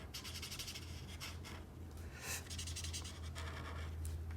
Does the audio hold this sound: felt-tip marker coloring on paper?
yes